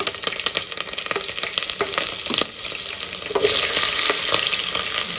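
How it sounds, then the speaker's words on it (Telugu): Bay leaf, star anise and green chillies fry in hot oil in a pan, making a loud close crackling sizzle with irregular spatter pops and stirring knocks that swell louder in the second half. "ప్యాన్ పెట్టుకొని ఆయిల్ వేసుకొని అందులో బిర్యానీ ఆకు ఇంకా అనాస పువ్వు పచ్చిమిరపకాయలు అయితే వేసుకోవాలా"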